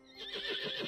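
A horse in the Star Stable Online game gives a brief, faint whinny, a short rising and wavering neigh lasting under a second.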